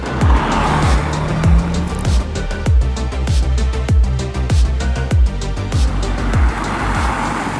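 A Mercedes-AMG C 43 4MATIC engine revs hard and loud with rapid gear changes, tires squealing as it drives close by on the road with no talk.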